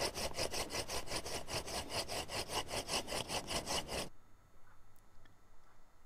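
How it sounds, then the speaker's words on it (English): Rapid rhythmic wooden scraping as a California fan palm hand drill spins back and forth under rocking hands, about four seconds of steady strokes, then it stops into near silence. "I'm going to spin the drill using the rocking hands technique"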